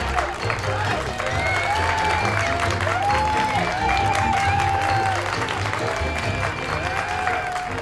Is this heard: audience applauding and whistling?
yes